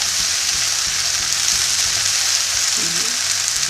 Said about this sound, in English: So I'm trying to get everything all mixed together so that everything can have a chance to cook